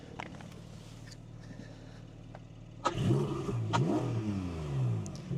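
A Porsche 718 Spyder sports car idles quietly, then its engine catches and revs sharply, rising and falling in loud, close bursts through the second half.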